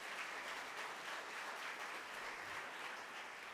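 Steady, dense applause from an audience at a social justice summit, many hands clapping continuously at an even level with no talk over it.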